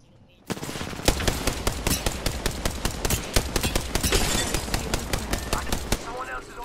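Gunfire in Apex Legends starts suddenly as a fast, steady stream of loud automatic shots lasting several seconds, close and punchy, with a faint voice beneath the shooting.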